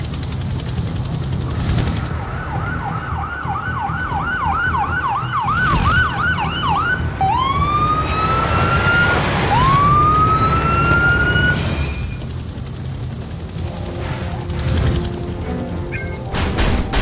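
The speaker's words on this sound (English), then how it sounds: "I called for another ambulance to meet us when this mess was over." An ambulance siren from the video game Urban Chaos: Riot Response wails loud and near over a steady background rumble, moving from a rapid yelp into long rising sweeps before fading.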